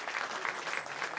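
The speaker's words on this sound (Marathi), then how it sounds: "तुमचं देखील यांच्यासाठी एकदा टाळ्या वाजवा." A kirtan audience claps together in steady, even applause, a continuous wash of hand claps heard from a moderate distance.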